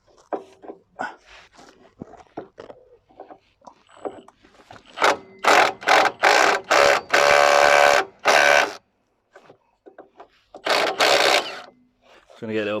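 Socket ratchet working the nut on a Vauxhall Corsa B ball joint, giving loud, close bursts of rapid clicking in a steady rhythm after someone talks briefly at the start.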